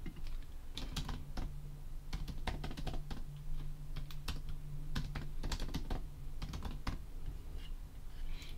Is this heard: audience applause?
no